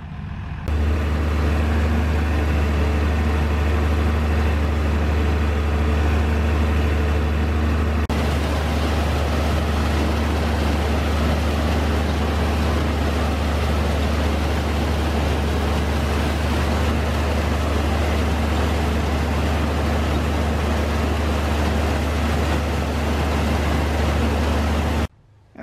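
A tractor and combine picking corn in a wet field make a continuous loud, low engine drone with steady mechanical rumble, unbroken for the whole stretch and with no talking.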